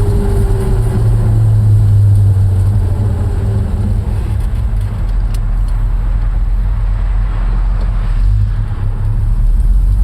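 A 1956 Chevrolet Bel Air 210 with a manual gearbox drives along in second gear; its engine gives a steady, loud, low rumble under continuous road noise for the whole stretch, with no talking.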